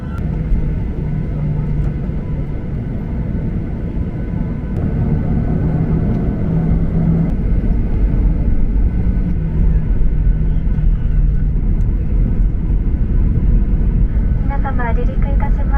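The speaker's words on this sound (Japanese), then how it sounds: "離陸いたします。" Steady engine roar of an ANA airliner on a short Nagoya Chubu to Tokyo Haneda flight as heard from the cabin, a loud continuous rumble that holds throughout while cabin announcements are spoken over it.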